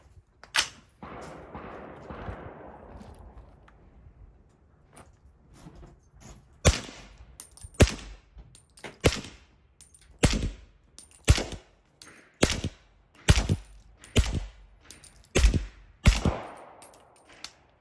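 Suppressed subsonic 300 Blackout rifle shots crack one after another, about a dozen sharp reports at irregular intervals, each with a short mechanical clack, close and fairly loud, with no talking.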